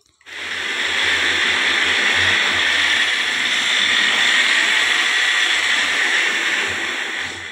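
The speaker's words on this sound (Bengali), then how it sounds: "এখন বিউলির ডালগুলো আমি মিক্সিতে নিয়ে নিচ্ছি।" Mixer grinder grinding overnight-soaked urad dal, a loud steady high whirring motor drone that starts abruptly and runs continuously alone.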